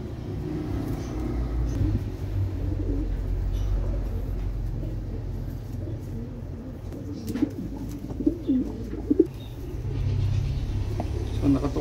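Pigeons coo in soft, repeated low calls, fairly close, over a constant low rumble of passing traffic, with a few brief sharper sounds near the end.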